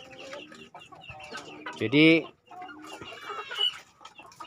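Free-range village chickens cluck on a farm, with scattered clucks and one loud, close squawk near the middle. Someone talks over the birds at times.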